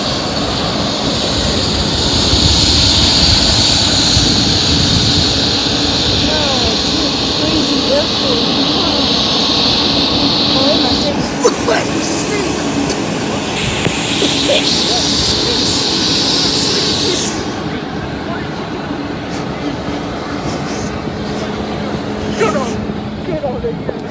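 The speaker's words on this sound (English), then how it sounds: "That's a private jet." A private jet at Ottawa airport: a loud, steady jet-engine whine and roar close by that shifts in pitch as it passes, with excited voices talking over it.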